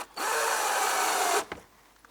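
A power drill runs steadily for just over a second while boring into a part of a heavy-duty budget photogrammetry turntable, loud and close, then stops with a couple of faint knocks afterward.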